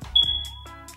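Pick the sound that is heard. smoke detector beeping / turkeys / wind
smoke detector beeping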